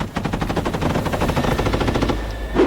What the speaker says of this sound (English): a moment later, there's a flurry of activity and a hail of gunfire